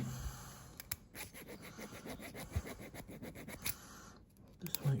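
A hand file scrapes burrs off metal on a Kerry AG lathe part, a series of quiet, close, rhythmic rasping strokes with small clicks between them.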